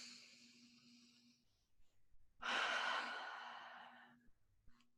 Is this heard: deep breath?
yes